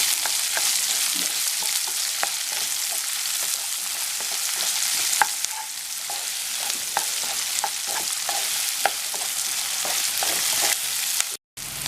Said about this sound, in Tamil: பொடி பொடியாக கட் பண்ணி வச்சுருக்கிற பெரிய வெங்காயம், கொஞ்சமாக உப்பு, இதெல்லாம் சேர்த்து நல்லா வதக்கிக்கலாம்.